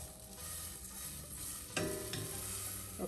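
Butter melts and fries in a pan with a soft, continuous sizzle, with a couple of light scrapes or clinks partway through and no talk.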